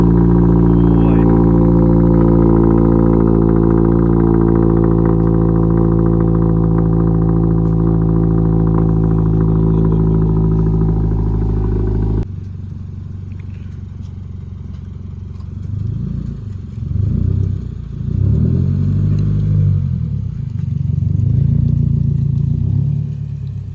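A Subaru car with a changed exhaust drones loudly and steadily up close at idle, then drops to a lower, rumbling note that swells and eases as the engine is revved.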